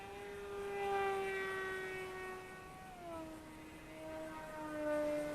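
A Volantex Ranger G2 RC sport glider, a 1200mm-wingspan FPV cruiser, flies overhead with a steady electric whine that slides down in pitch as it passes, faint and moderately distant with no voices.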